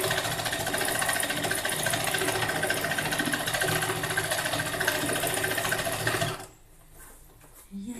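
A sewing machine stitches a patchwork crazy-quilt bag, running in a fast steady rattling drone close up for about six seconds, then stops abruptly leaving a quiet room.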